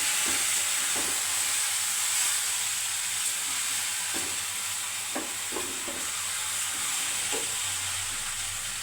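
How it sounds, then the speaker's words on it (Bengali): Noodles tipped into a hot pan of fried onions give a bright continuous sizzle, with scattered soft clinks and stirring knocks throughout. "পেঁয়াজটা ভালো করে ভাজা হয়ে গেছে, এখন লুডুসটা ঢেলে দিলাম।"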